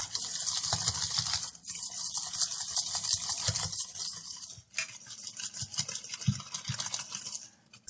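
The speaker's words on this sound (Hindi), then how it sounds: "हम इसी तरीके से इसको मिक्स करते रहेंगे।" Jeera biscuit batter being mixed in a bowl, a steady, close, continuous swishing and whisking scrape that runs for several seconds, breaks briefly, then resumes with some soft knocks against the bowl.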